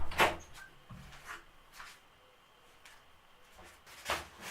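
A balcony door bangs in the wind, with several sharp, irregular thuds and knocks spaced apart against a quiet indoor background.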